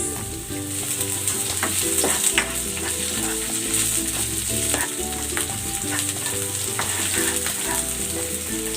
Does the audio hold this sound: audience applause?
no